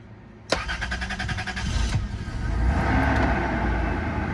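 A Toyota 4Runner engine cranks and catches after a fuel filter replacement, a sharp start followed by rhythmic cranking that settles into a steady, close idle rumble.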